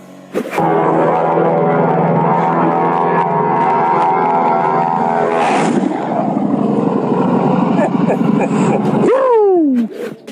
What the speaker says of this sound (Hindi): हवाई जहाज की तेज आवाज और इतने नीचे से बिल्कुल इस शख्स को जैसे छूकर निकलता हुआ हवाई जहाज